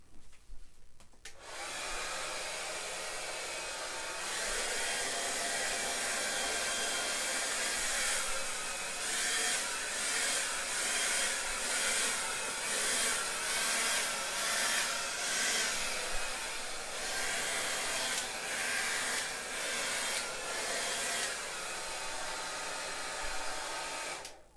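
Hair dryer blowing air onto wet acrylic fluid paint, a loud steady whooshing roar that runs continuously for over twenty seconds with slight fluctuations as it moves, then cuts off; no talking.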